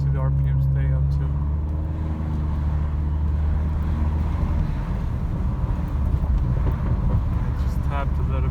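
A 2019 Honda Accord Sport engine revs up and holds at steady high RPM, a loud continuous drone with heavy low rumble throughout, while a person talks over it.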